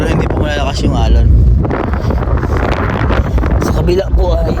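Heavy wind on a ship at sea buffets the microphone in continuous rumbling gusts, with voices talking faintly underneath.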